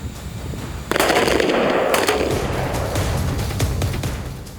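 Gunfire from a South Korean Army 11th Airborne Special Forces Brigade soldier at marksmanship practice: a sudden loud burst of rapid, crackling shots that keeps going as a dense, echoing volley, with no talking.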